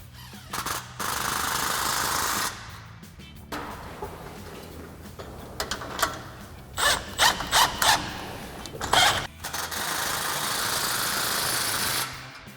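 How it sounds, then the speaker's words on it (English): Ratcheting and clanking of a 15mm socket wrench tightening exhaust clamps on a 2021-2023 Ford F-150 MBRP Armor BLK dual exhaust muffler outlet, in bursts of broadband tool noise with short rhythmic clicks in the middle, no talking. "grab a 15mm socket to tighten them down"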